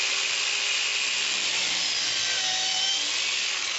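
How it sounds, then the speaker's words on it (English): Counter-rotating saw with a laser guide plunging straight down into a wooden countertop, giving a steady, loud, continuous grinding whine with no pauses throughout. "The first thing I'm going to do is what's called a plunge cut. Okay, I'm going to cut straight down"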